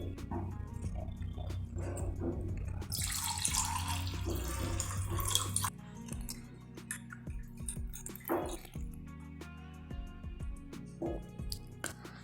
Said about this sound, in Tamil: இந்த தேங்காய் பாலை நான் வேறு ஒரு கப்பில் சேர்த்துக்கிறேன்.